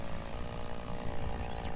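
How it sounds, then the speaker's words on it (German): A steady, buzzing chainsaw roars continuously in the farming video game Farmers Dynasty, loud and unbroken with a rough, raspy engine tone and no pauses. "Meine Kettensäge."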